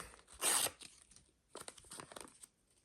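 A short, sharp rip of thin paper, followed by soft crinkling and rustling as a small paper surprise packet is opened up close.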